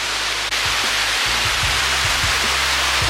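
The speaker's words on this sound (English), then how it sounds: "Well, that's where the running water sound came from." Running water of a small dirty stream in a small German town, a steady broadband rush that fills the whole clip, with faint low rumbles mixed underneath.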